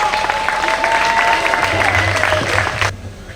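Audience applause at a celebration of joy in the late years of priestly life, a steady dense wash of clapping hands that carries on evenly, then drops away abruptly near the end.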